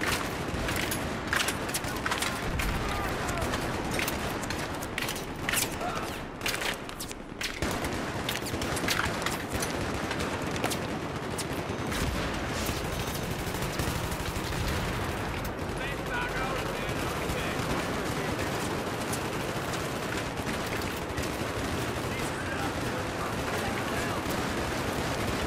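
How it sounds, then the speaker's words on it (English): Battlefield 3 gunfire crackles continuously in dense bursts, with sustained automatic fire and scattered booms filling the whole stretch at a loud, busy level while voices talk over it. "Oh god, they're shooting."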